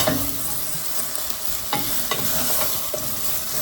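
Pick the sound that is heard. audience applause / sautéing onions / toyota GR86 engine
sautéing onions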